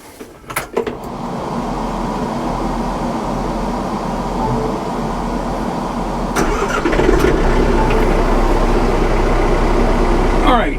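A tractor engine out in an overgrown field cranks and catches near the start, then settles into a close, steady running rumble that swells briefly louder toward the end.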